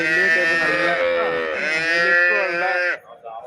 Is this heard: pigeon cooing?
no